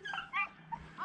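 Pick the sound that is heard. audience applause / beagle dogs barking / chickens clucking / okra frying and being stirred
beagle dogs barking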